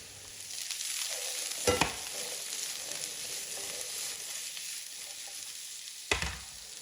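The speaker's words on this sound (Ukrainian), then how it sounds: "додаю цибулю та смажу на середньому вогні до готовності картоплі" Steady sizzling of potatoes and onion frying in oil over medium heat, with two sharp clatters of a utensil stirring the pan.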